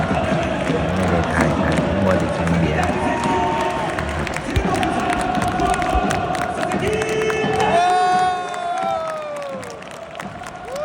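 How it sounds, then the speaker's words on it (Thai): J-League football supporters at a stadium in Kobe, a large crowd chanting and cheering loudly and continuously, with rising whistle-like calls near the end. "มาดูบรรยากาศการเชียร์ของเขาครับ"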